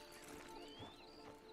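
Horse hooves clip-clop softly in Red Dead Redemption 2 Online, faint steps under a busy ambient game background.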